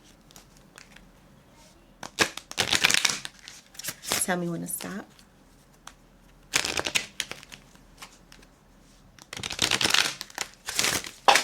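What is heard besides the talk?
shuffling tarot cards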